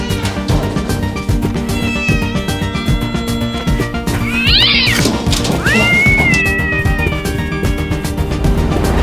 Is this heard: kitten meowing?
yes